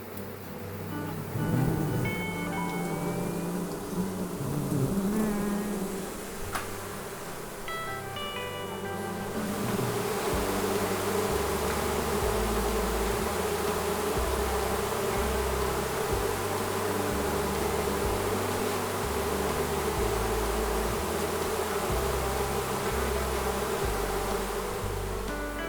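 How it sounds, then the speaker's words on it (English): A swarm of bees in Brisbane hums densely while a bee vacuum draws them in, its steady whooshing drone rising after the first few seconds and holding loud and continuous under the buzzing. "and then we'll vacuum these girls up with the bee vacuum."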